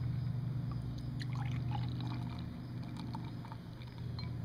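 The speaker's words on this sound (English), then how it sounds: "A generous pour." Liquid pouring steadily into a glass over a low, constant background hum, with a few faint clinks and splashes.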